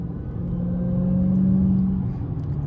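A car engine revs in traffic during a cruise alongside a Hellcat, Trackhawk and Daytona Scat Pack, a loud, close rumble swelling to a sustained droning whine before easing off, with no talk over it.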